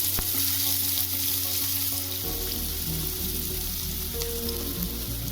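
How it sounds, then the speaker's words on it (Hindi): Onions hit hot refined oil in a kadai, a loud, bright sizzle that swells as they go in, then crackles steadily close by alongside a low hum, with no talking. "तो ऑयल अब हो गया है गरम। तो चलिए अब इसमें डाल देते हैं प्याज"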